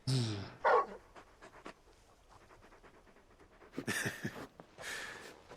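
A large dog-like companion in Final Fantasy XVI pants in quick breathy bursts, with soft whimpers and scattered clicks between, fairly close and moderately quiet.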